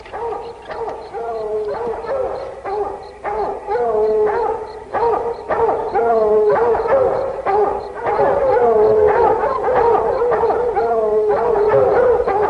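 A pack of hunting dogs bays and howls at a raccoon treed in the woods at night, with a continuous chorus of overlapping yelps and drawn-out howls, fairly close and loud throughout.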